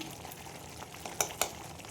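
Ghee sizzles softly in a pan during mutton curry cooking, a faint steady crackle broken by two sharp clicks near the end.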